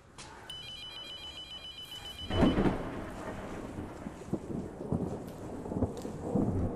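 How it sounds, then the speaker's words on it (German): Old telephone ringing in the horror game Abandoned Souls, a shrill repeated electronic ring for about two seconds, then a heavy thunderclap followed by steady rain and rumbling storm. "Das Telefon klingelt."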